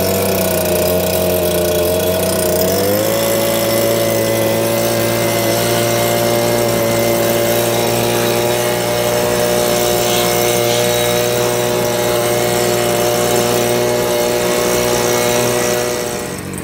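New STIHL engine running steadily as it warms up after starting on a warm day, a close, droning buzz that drops slightly in pitch early on, then holds even and unbroken with no talk.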